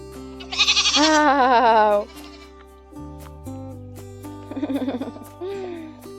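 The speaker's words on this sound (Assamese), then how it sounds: "আৰু শুনিছে নিশ্চয় এইটো ছাগলী ইমান মাত দিয়ে" A female goat bleats loudly with a wavering, drawn-out cry, then gives a second, shorter bleat a couple of seconds later, with quiet background hum between.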